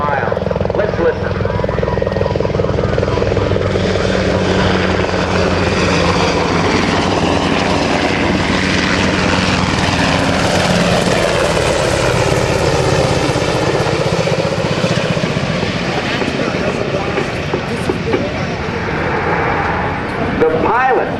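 Military Black Hawk and Huey helicopters pass at an Air National Guard open house, a loud continuous rotor and engine roar sweeping by with an announcer talking over the public address.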